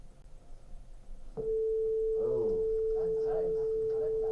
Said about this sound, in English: if the frequency changes to 442 hertz, which sounds like this